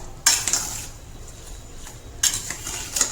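Spoon mixing jaggery into mango pulp in a bowl, giving two short clusters of light clinks and scrapes separated by a quiet stretch, soft and close.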